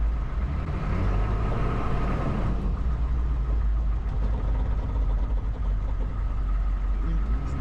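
A Hummer H1 limping along in high lock makes a low, continuous drivetrain drone and rumble from the transfer case under braking, close and fairly loud, with faint background noise over it.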